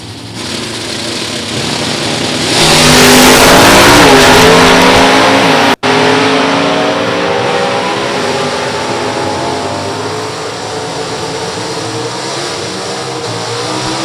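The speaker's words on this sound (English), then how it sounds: "Ryan getting ready to ride his Chevy Camaro down the racetrack." A Chevy Camaro roars down a drag strip. The engine surges loudly into a hard acceleration run, cuts out sharply, then rises again with a high revving note that slowly fades as it pulls away. No one speaks.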